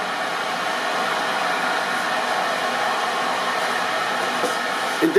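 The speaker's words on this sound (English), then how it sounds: "I just heated it up with my little torch" A small torch roars steadily at close range while heating hot glue on kayak wiring, a constant breathy hiss with a faint click at the very end, no speech.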